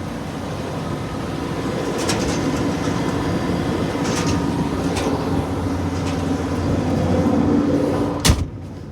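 A 225-horsepower Case IH Puma tractor engine drones steady and low throughout, with a few faint knocks and a sharp clunk near the end.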